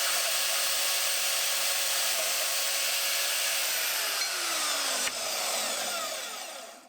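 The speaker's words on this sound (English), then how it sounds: "now I got to cut this tab clean off." A cutting tool slices a metal tab off an axle while welding in a Helix HEXTTK13 4-link suspension kit, giving a loud, steady high-pitched grinding whine that runs the whole time, dips briefly near the end, then trails off.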